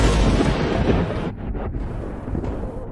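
Ninefold heavenly thunder tribulation strikes in an anime battle. A loud, dense rumbling roar fills the sound throughout, booming and crackling like heavy thunder or an explosion, with no talk over it.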